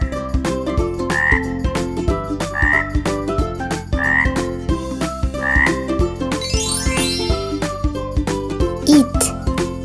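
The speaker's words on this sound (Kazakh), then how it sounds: "Бака." A frog croaks in a regular series of short calls, about four evenly spaced in a row, set against a busy musical backing with chimes and percussion.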